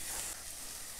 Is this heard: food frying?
yes